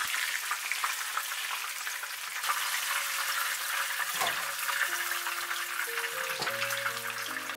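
Sea bream sizzles steadily in hot frying oil, a dense, even crackle with a few faint clinks near the end and no voices.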